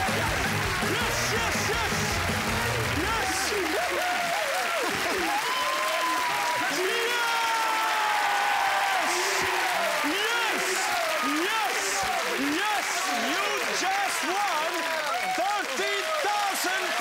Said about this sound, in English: Please have a huge round of applause, the Young family.